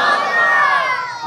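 A large crowd at a religious gathering celebrating the Prophet's birthday shouts back in unison in answer to a Takbeer call, one loud sustained roar of many voices, close and dense.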